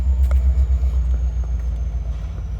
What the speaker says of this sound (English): Oh, train's coming down that track.